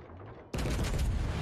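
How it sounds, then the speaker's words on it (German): A warship's main guns fire a salvo in World of Warships Legends, a sudden loud booming blast that breaks in after a quieter stretch and rumbles on to the end. "Salve ist draußen."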